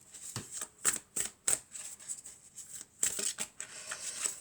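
Oracle cards are shuffled by hand in a quiet room. Soft, papery riffles and crisp flicks come in irregular bursts, close and fairly faint, with no voice.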